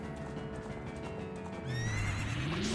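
Phantom Ganon's horse in the Ocarina of Time video game gives a loud, rising whinny that follows a stretch of quieter clip-clop hoofbeats and game ambience.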